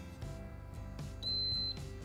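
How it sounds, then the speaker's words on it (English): Single sustained electronic beep from a waffle maker signalling Belgian waffles are done, clear and close for about half a second over a faint background hum. "Mine has an indicator light when it's done and it'll beep"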